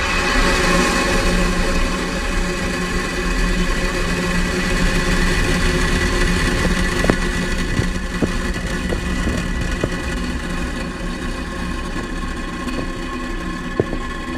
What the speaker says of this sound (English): 9, 8, 7, 6, 5, 4, 3, 2, 1, ignition, and liftoff of Falcon 9.